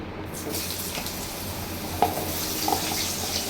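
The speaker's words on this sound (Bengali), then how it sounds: "আমি সবসময় পটলের তরকারি রান্না করলে পটল আলু এগুলো ভেজে নিই" Pointed gourd (potol) and potato pieces frying in hot oil, a steady close sizzle throughout with a couple of brief stirring clinks, no voices.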